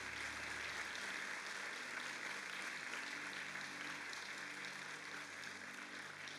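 Faint, distant applause from a congregation at a church family meeting, a soft continuous patter of clapping running evenly without a break.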